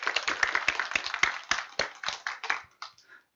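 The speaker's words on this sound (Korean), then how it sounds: "수고했다 박수 한번 치도록 할게요" Audience of trainees at a project presentation event claps for one another in a short round of applause, uneven hand claps starting dense and thinning to a few last scattered claps.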